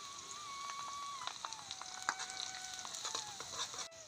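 Sliced onion fries in hot oil in a pan, a faint, steady crackling sizzle with scattered pops and a thin whistling tone running through it.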